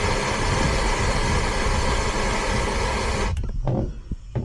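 Blowtorch heating the tip of a bolt, a loud steady roaring hiss lasting over three seconds before it cuts out, leaving a few faint knocks and rustles.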